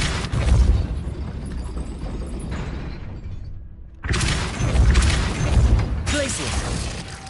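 Depulso force spell blasting in a video game, two heavy booming bursts with shattering debris, separated by a brief quiet gap, loud and close with game effects layered over them.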